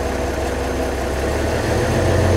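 A TD-15c crawler's diesel engine idles smoothly and steadily, a continuous low rumbling drone heard close up with an even throb and no voices over it.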